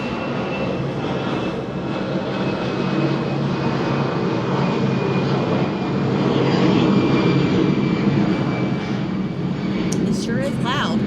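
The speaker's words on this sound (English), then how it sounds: "There's been a lot of airplanes taking off over here." A private jet taking off nearby at a Caribbean cruise port, its engine a loud, continuous roar with a faint whine running throughout, and a brief voice near the end.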